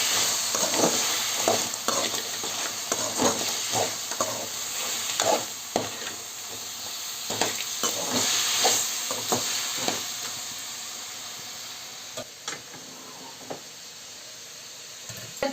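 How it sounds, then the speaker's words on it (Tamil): Crab gravy with salt frying in a pan: a steady loud sizzle and hiss, broken by repeated stirring scrapes and clinks of a spoon against the pan, close up, no talking. "இப்போது நல்லா ஃப்ரை பண்ணிடலாம்."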